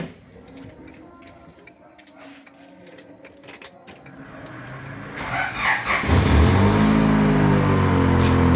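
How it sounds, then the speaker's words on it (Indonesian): A car engine ticks and clicks during the starting attempt, then catches and settles into a loud, steady idle close by. "sekarang kita hidupkan mesinnya beberapa menit ya"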